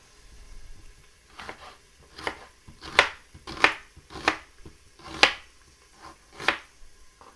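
A knife chops a large onion on a cutting board for Philly cheesesteaks, about a dozen crisp, irregularly spaced cuts that sound close and fairly quiet.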